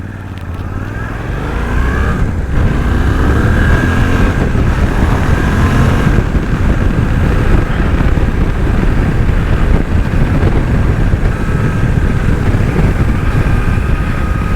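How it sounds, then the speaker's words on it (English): A Suzuki V-Strom DL800DE middleweight adventure motorcycle cruises on a highway, its engine droning steadily under heavy wind roar, loud and continuous, with a rising tone as it accelerates. "Bike runs nicely, handles well, keeps its line."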